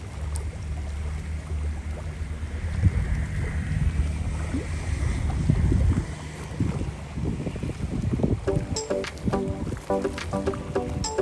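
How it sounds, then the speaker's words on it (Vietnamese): Boats moving on the Lòn River during a rainy, stormy day, with steady wind rumble and engine-like low drone, water wash, and a sharper cluster of tonal rattling knocks near the end. "Trước mặt mình có mấy chiếc ghe nè,"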